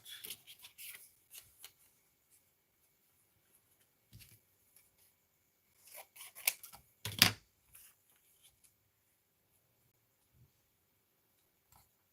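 Scissors cutting out Mickey Mouse paper die cuts, faint sparse snips and paper rustles with a denser cluster of close cuts near the middle and long quiet gaps.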